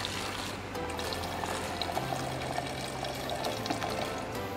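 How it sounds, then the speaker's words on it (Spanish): Alcohol pours into a bottle holding a chlorine mixture, a steady gurgling liquid flow with small splashes, close and continuous, with no talking. "acá vamos a agregar el alcohol"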